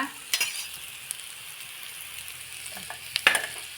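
Spinach vadi shallow-frying in a little oil gives a soft, low sizzle, broken by a few sharp clinks and scrapes from a spatula turning them, quiet and close.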